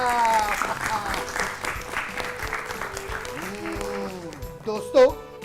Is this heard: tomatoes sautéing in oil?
no